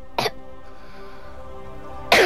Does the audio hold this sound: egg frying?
no